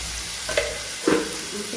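Chopped potatoes with salt being turned over in a pan, two distinct scraping stirs over a steady background sizzle, close and fairly loud, without talk.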